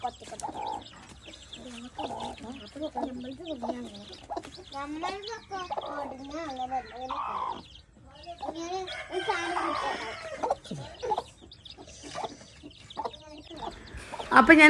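A mother hen clucks softly and intermittently close by while a person talks quietly, with faint chirps from chicks now and then.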